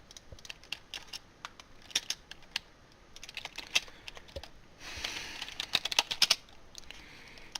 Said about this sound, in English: Not sure if you can hear me swallow, or if you can hear my keyboard